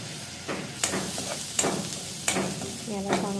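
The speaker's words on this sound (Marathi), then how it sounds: "याला चांगल्या प्रकारे मिक्स करून घेऊया आणि थोडा वेळ शिजू देऊया" A spatula stirs pav bhaji masala with lemon through a sizzling pan, making rhythmic close scrapes about every three-quarters of a second over a continuous frying hiss.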